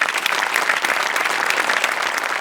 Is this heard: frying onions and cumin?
no